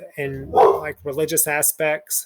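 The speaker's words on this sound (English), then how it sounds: "apologize for my dog barking" A dog barks in several sharp bursts close by, overlapping a man's steady speech about Hebrew lessons.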